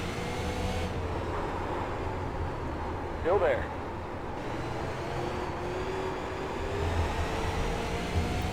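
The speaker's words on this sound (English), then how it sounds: "you can hear me just waiting to be able to get back to the throttle" A race car in the iRacing sim at South Boston eases off the throttle, its engine a steady, subdued drone through the corner while someone talks over it.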